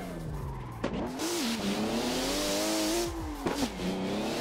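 A Toyota JZX100 drifting in the Assetto Corsa racing game, its engine droning steadily at high revs with sharp gear-change or throttle blips, loud and continuous with no talk.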